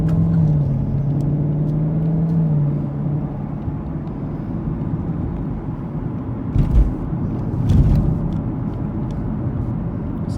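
A car driving through the small downtown of Smyrna, Tennessee, heard from inside: a steady, loud road and engine rumble with a couple of brief thumps from bumps.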